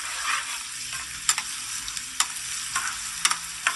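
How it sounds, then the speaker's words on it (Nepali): Onions and chilies fry with a steady sizzle in a pan while a spoon stirs them, giving several sharp scraping knocks against the hot pan. "अलिकति पकाउँदैछु खुर्सानी"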